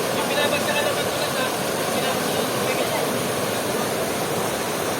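A waterfall on a river rushes with a steady broadband roar close by, with a voice faintly audible in the background.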